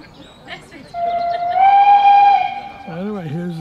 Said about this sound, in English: Anyway, here's the train.